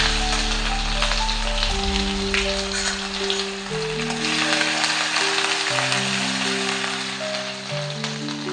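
Garlic and ginger paste sizzles in hot oil in a wok, a steady broadband crackle and hiss throughout, partly covered by sustained music tones.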